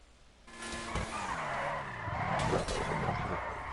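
Car tires skid and squeal loudly through a double handbrake in a GTA stunt race, a sustained screech with engine roar that swells and dips across the slide, up close with no talk.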